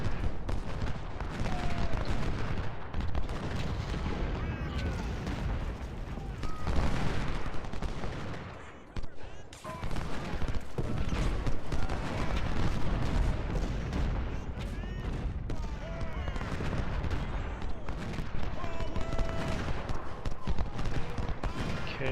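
Musket volleys and cannon fire from the Civil War battle game Ultimate General: Civil War, in dense, continuous rolling fusillades with booms and crackling shots throughout, loud and sustained, with brief voice snippets mixed in.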